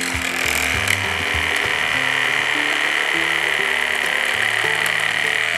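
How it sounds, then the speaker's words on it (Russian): A children's woodworking machine jigsaw cuts through plywood with a steady buzzing rasp, its pitch shifting in steps as the cut changes, close and continuous with no speech. "И напоминаю, что это лобзик."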